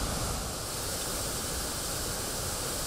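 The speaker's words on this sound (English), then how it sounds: "The rushing, mighty sound of waterfalls resounds through the valley." A steady, dense roar of rushing water pours without pause, broad and full like a waterfall crashing nearby, as waterfalls cascade down a mountainside in Norway.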